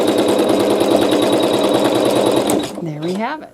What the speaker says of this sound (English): then we're just going to sew a tack down stitch to hold all the layers together